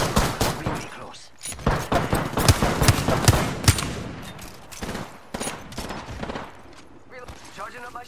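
Bursts of rapid automatic gunfire in the Apex Legends video game, loud and close, with dense repeated shots running through most of the stretch and brief pauses between volleys.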